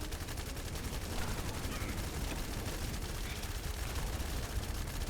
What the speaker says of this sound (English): Do not stop shooting for anything.